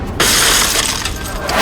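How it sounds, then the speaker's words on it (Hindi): A man smashes the glass window of his own car: a sudden sharp shattering crash followed by a continuing spray of breaking, crunching glass, close and loud with no talk. "आखिर यह शख्स अपनी ही गाड़ी का कांच क्यों तोड़ रहा था?"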